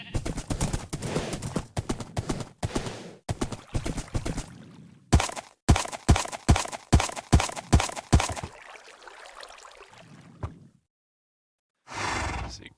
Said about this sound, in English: see if I can squeeze my horse in through his entrance.